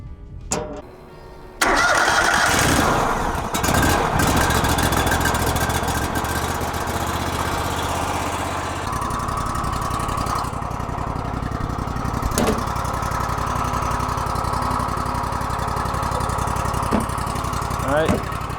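A new sawmill's engine cranks and catches, then settles into a loud, steady idle that runs on at close range, with a couple of brief clanks over the drone.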